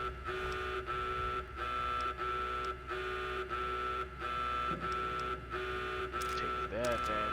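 A security alarm blares in the video game Fallout New Vegas, a loud, repeating electronic buzzing tone pulsing at a steady rhythm, with other game sounds briefly rising near the end.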